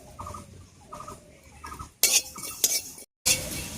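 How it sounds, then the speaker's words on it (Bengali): A spoonful of black cumin seeds is dry-roasted in an empty wok, with a spatula scraping and stirring in short bursts of clatter that grow louder toward the end. No one speaks. "কড়াইয়ে দিয়ে দিচ্ছি 1 চামচ কালো জিরা।"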